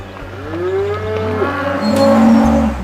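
Cows with calves low and moan on a mountain cattle drive in Australia. A few drawn-out, wavering moos overlap at close range above a steady low rumble.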